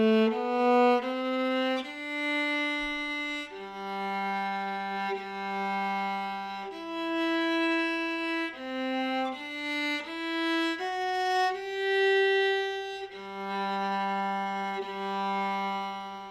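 A single viola plays a beginner first-section exercise, using whole and half bows on long sustained notes with clean bow changes, heard solo and close.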